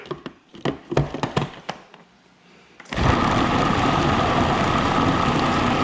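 A food processor holding a block of cream cheese for spinach dip gives a run of sharp, irregular knocks, falls briefly quiet, then starts up into a loud, steady motor roar that continues to the end.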